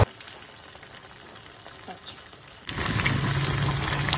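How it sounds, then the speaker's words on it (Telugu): Sabudana vadas fry in hot oil, and a soft, steady sizzle rises sharply about two-thirds of the way through, staying loud and continuous to the end. "ఇట్లా బ్రౌన్ కలర్ వచ్చే వరకు వేయించుకోవాలి"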